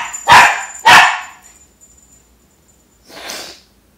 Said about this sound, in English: Niner wants to bark at everybody walking by